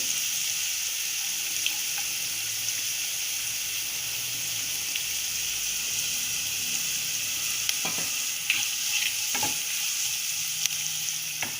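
Carrots cook in a pan for chana masala with an even, unbroken hiss of frying and a few faint clicks and scrapes from stirring near the end, with no speech.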